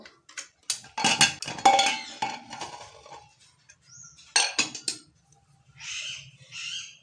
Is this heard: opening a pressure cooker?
yes